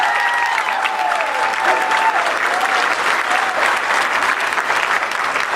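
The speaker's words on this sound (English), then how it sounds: "Big round of applause for Becky." Steady, loud clapping from a conference audience at a furniture fair, celebrating Becky after her whip demonstration, with a brief whistle-like tone early and crowd noise throughout.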